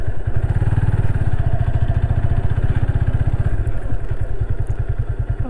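A motorcycle engine runs on a rural dirt footpath through farm fields, its steady low thumping pulse loud and close throughout, with a slight change in rhythm partway through.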